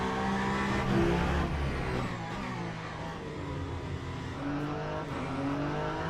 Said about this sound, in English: Whenever I'm off the throttle, it sounds like a rumble of a thunder.